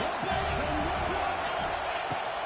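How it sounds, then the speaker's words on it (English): A stadium crowd roars in the NCAA 26 football game, a dense, sustained wash of cheering held at a constant level while a commentator's voice talks over it. "This crowd rising up, sensing that its defense needs some help."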